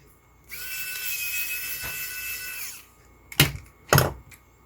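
A small screw is worked loose from a MAGICAR car alarm key fob being taken apart, giving a steady whirring grind for a couple of seconds, then two sharp bursts of scraping and clicking, close up with no voices.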